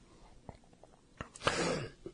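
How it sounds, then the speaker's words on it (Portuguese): A short, sharp cough burst from a man near the end of a flu, close and alone, with a few faint throat sounds and breaths before it. "tô com a tossinha aqui"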